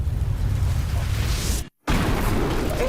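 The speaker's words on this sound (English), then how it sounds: "the explosion could be heard from over a mile away" House doused in gasoline exploding into a sustained, loud roaring blast that fills the clip, cut by a brief silent gap before the rumbling continues.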